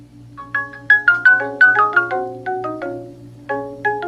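A Nooie video doorbell chime plays a bright melodic tune, heard doubled as the doorbell and its base station ring together, each note ringing out and fading.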